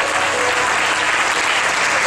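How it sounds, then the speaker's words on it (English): A church congregation claps hands in praise, a dense, even burst of applause filling the room throughout. "give him a hand clap of praise."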